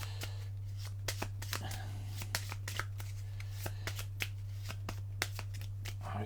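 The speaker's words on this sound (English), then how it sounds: "Shuffle machine not happy." A card shuffling machine riffles a deck of playing cards during a board game, giving a steady run of crisp, close ticking flicks over a constant low electrical hum, with no talking.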